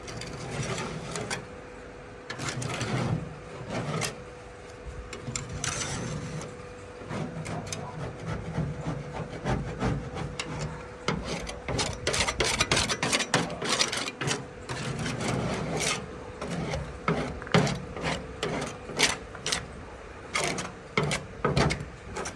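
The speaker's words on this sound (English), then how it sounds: "Let's see if we can't scrape this off." A scraper works chemically stripped paint off a car fender, giving repeated rough scratching strokes in irregular bursts, close and fairly loud, with quieter pauses between passes.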